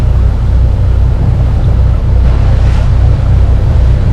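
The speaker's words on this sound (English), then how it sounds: "We're still motoring out of the Manatee River channel." A sailboat's engine drones low and steady under heavy wind buffeting the microphone, with water rushing past the hull, motoring out of the Manatee River channel near Tampa Bay.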